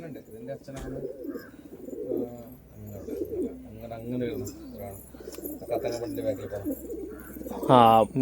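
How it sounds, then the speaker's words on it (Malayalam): Low, repeated pigeon coos throb through the clip, with a voice speaking briefly near the end. "ഈ ഒരു പ്രാവ് കേട്ടോ."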